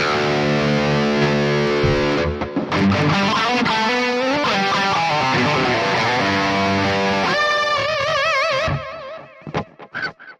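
Distorted electric guitar through a Neural DSP Mesa Boogie Mark IIC+ amp sim with delay and reverb, playing sustained chords and melodic lines alone, then trailing off into echoing repeats and a few sparse notes near the end.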